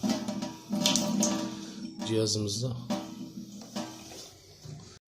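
Water streams steadily from the brass faucet of a home water purifier, a hissing flow that sits under a voice as he talks throughout.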